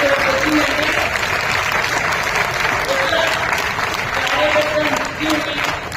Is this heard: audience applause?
yes